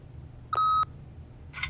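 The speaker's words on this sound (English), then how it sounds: "Beep!" A single sustained electronic answering machine beep in The Wolf Among Us video game, a clean tone lasting about a third of a second over a quiet hum, followed by a brief muffled burst.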